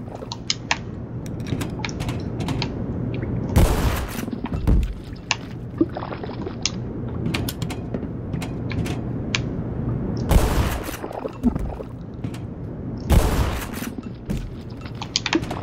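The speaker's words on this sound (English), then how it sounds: "Okay, shotgun it is." Shotgun blasts in Black Mesa, a few loud isolated booms spaced seconds apart over a quieter bed of game ambience and scattered clicks.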